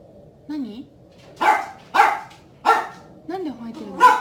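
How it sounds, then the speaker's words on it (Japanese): A dog barks in short bursts, about four sharp barks spaced roughly half a second apart, interspersed with higher whiny yelps, fairly close and alone without talk. "なんで吠えてるの？"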